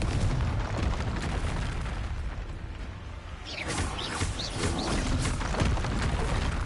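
Confringo fire spell blasts exploding amid the din of a Hogwarts Legacy duel, a dense continuous roar with bursts rising halfway through, no voices.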